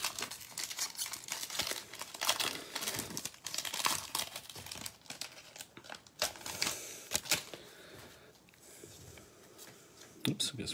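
Cello-wrapped 2021 Prizm baseball card packs are ripped open by hand, giving steady crinkling and tearing of plastic wrappers close by with sharp crackles throughout.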